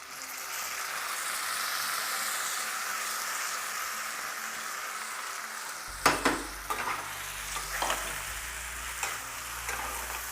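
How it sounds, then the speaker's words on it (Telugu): Soaked red rice fries in oil in a pan, a soft steady sizzle, then from about six seconds a spoon scrapes and stirs in several distinct close strokes over the crackling. "ఈ రైస్తో పాటు ఒక 2-3 మినిట్స్ వేగాలి"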